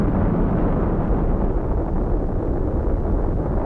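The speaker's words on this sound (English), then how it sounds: "The hydrogen bomb." A thermonuclear hydrogen bomb test explosion gives a dense, loud and unbroken roar that rumbles evenly for the whole stretch with no pauses.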